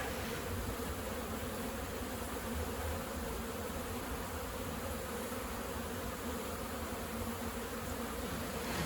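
A strong honeybee colony of about 40,000 bees drones steadily during removal from a shed, a dense, continuous close-up buzz at even volume with no talking.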